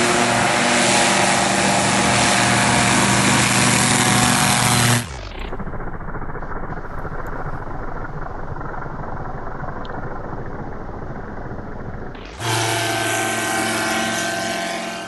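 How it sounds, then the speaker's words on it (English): The engine of a Bat Hawk light aircraft roars loudly during a short takeoff roll, dropping to a lower, muffled drone for several seconds before surging back to full loud power. "Obviously, it's a light aircraft too. Let's have a look at this takeoff roll."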